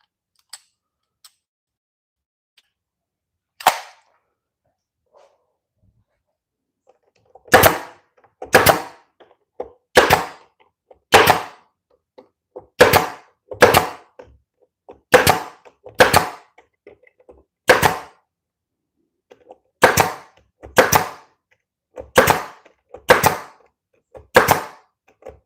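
A nail gun drives angled nails into a wooden build: a few isolated shots, then a steady series of about fifteen loud, close, sharp cracks with short silences between them.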